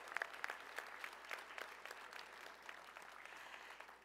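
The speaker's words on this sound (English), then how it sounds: "Give yourselves a round of applause." Applause from a seated crowd at a new student and family university convocation ceremony, fairly distant and soft, sustained clapping with a few sharper claps near the start.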